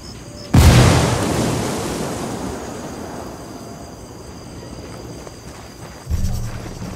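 A frag grenade bursts in the tactical shooter Ghost Recon Wildlands, one loud close blast with a long rumbling decay and a second lighter thump near the end.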